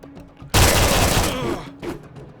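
Burst of gunfire in The Phantom, a beat-em-up video game based on the classic comic character: a sudden loud volley of overlapping shots that tails off, followed by a fainter second blast.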